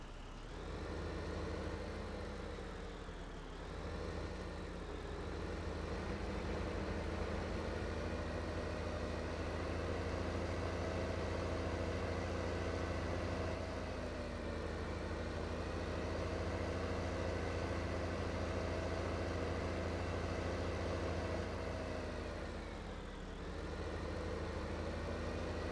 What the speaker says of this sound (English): Oh, let's grab this tractor.